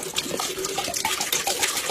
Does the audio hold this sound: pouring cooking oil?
yes